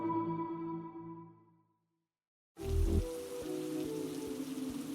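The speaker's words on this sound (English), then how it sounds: "it was pouring rain out" Heavy evening rain pours down in a dense, steady hiss with scattered drips. It starts abruptly after a fading tonal sound and a brief silence.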